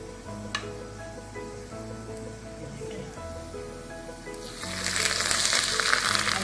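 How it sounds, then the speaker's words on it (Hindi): Hot tadka (baghar) poured over dhaba-style urad dal (mash ki daal): after a quieter stretch of low background sound, a sudden loud burst of hissing sizzle erupts and keeps crackling to the end. "ये देखें अब मैं ऊपर से भगार दूंगी इसको मैं"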